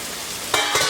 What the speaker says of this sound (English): just kind of saute them. Stir them around.